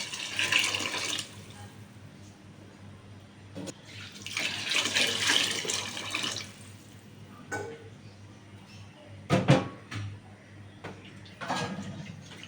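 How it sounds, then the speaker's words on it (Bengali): Water pours from a vessel into a pot of vegetable khichuri in a home kitchen, in a few short splashing bursts separated by quiet gaps and the light clink of utensils. "এই যে দিয়ে দিচ্ছি পানি।"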